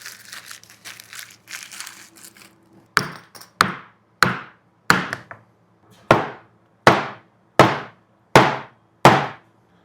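Rubber mallet blows hammering on epoxy-sealed wood pieces, about ten sharp, loud strikes at a steady pace, preceded by a few seconds of scattered crinkling and handling noise.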